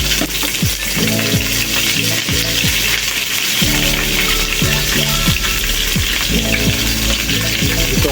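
Onions sizzle in a frying pan outdoors for an afritada, a continuous loud hiss with scattered clinks and scraping of a utensil against the pan.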